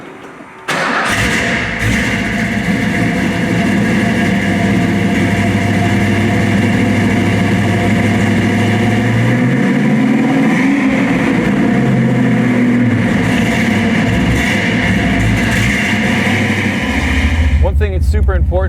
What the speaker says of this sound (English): One of the things I love so much about this car is the noise that it makes when it starts up.